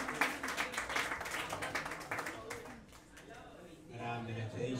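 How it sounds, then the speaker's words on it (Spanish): Crowd applause and clapping at a live DIY festival show in Moscú, a fairly faint patter of hands over the first few seconds that fades under talk and music. "un aplauso para usted"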